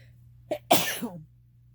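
A single close sneeze with a brief inhaled catch before it, then a sharp burst that trails off into quiet.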